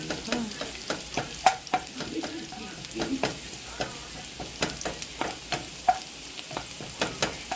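Garlic cloves fry in oil in a pan for Filipino pancit bihon, a soft continuous sizzle broken by repeated sharp scrapes and clicks of stirring, close and fairly quiet.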